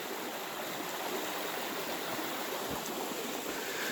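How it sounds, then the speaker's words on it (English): Creek in Joyce Kilmer Memorial Forest, Nantahala National Forest, western North Carolina, flowing steadily with a loud, close, unbroken rush of water and no voices. "Beautiful creek right here."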